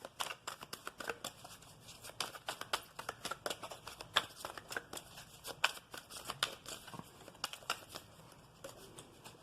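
Oracle cards being shuffled by hand for a tarot reading, producing a continuous run of quick, papery riffles and slaps in uneven bursts, close by, with no talking.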